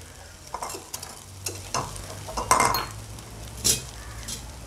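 Shallots sautéing with green chillies in a pan, a soft sizzle broken by a series of metal spoon scrapes and clinks against the pan, the strongest around the middle.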